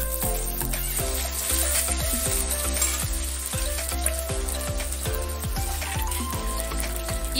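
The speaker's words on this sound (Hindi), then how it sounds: "इसके अंदर मैं डाल दूंगी दोस्तों क्रश की हुई अदरक" Crushed ginger and whole spices, bay leaf, black pepper, cardamom, cloves and cinnamon, frying in hot oil in a pan for paneer pulao, giving a steady close sizzle with small clinks and stirring taps throughout.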